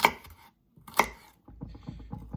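Celery stalks being chopped with a knife for Cajun gumbo: two sharp, distinct blade strikes on a cutting board, followed by a quicker run of lighter chops, close and clear.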